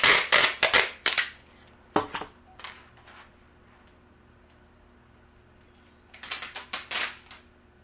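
Tape is pulled off the roll in quick ripping bursts, a loud cluster at the start, a couple of single tears in the middle, then another rapid series at the end.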